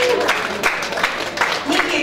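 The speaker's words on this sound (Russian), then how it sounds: "Давайте аплодировать." Wedding guests applaud in a steady wash of clapping filling the room, with a voice briefly rising over it and background crowd noise throughout.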